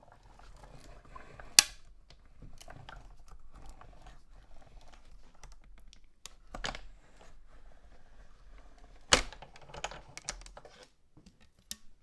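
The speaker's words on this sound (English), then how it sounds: "Then you're going to put that over top of the die, and then you're just going to crank that through." A die cut machine is hand-cranked to cut acrylic, producing sparse, faint mechanical clicks and a couple of sharper snaps spread across a quiet background.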